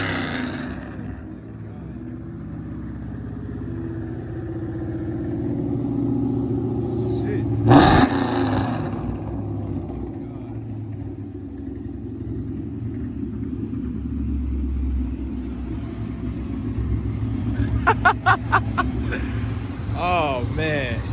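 A straight-piped Ford Mustang Cobra pulls hard under acceleration with a loud, continuous low rumble, heard from inside the car. A sharp burst comes partway through, and people talk over the engine.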